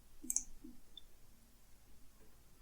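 Two quick, faint mouse clicks come early over a near-silent background while a web form is being saved on a computer, followed by quiet room tone.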